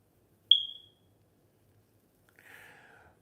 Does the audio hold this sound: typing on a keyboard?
no